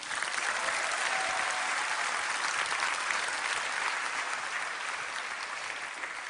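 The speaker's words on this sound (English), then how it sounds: "Give her a round of applause." An audience gives a round of applause at a 2015 business forum talk, a steady dense roar of clapping filling the room, loud and sustained without letup, tapering only slightly near the end.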